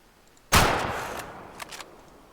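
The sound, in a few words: gunshots from a hunting rifle in Way of the Hunter video game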